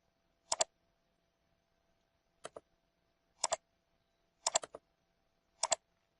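A token is typed on a computer keyboard in short bursts of two or three crisp, close keystrokes, about five clusters spaced a second or so apart over near silence.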